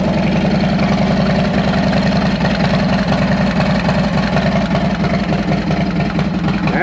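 A Harley FXR motorcycle engine idles steadily after a cold start, a loud, close, continuous low rumble with an even throbbing pulse and no voices.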